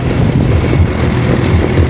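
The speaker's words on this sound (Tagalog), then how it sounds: "Ang ingay ng motor dahil center stand." A steady, rumbling motorcycle engine runs continuously at close range on its center stand, a low droning idle with no voices over it.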